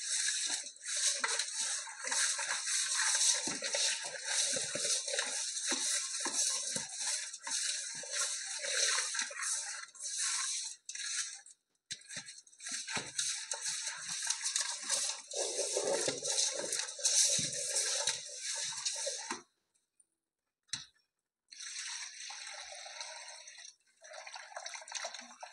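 Fish pieces being rubbed with salt and rinsed in water by hand, wet squelching, dripping and splashing in uneven bursts, close up, with brief quiet gaps between handling.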